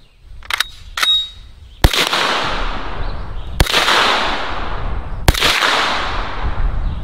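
Gunshots from an M1 Carbine at a coconut target outdoors, with three loud sharp reports spaced a couple of seconds apart, each trailing into a long echoing decay, preceded by a few quieter clicks.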